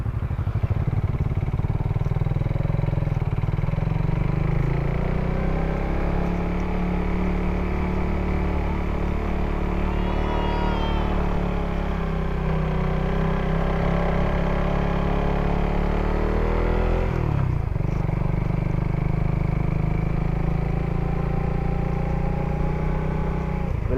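A Suzuki Raider FI motorcycle on stock 14-38 sprockets climbs uphill on a market ride. Its engine drones continuously and loud, with rising and falling revs throughout and no speech.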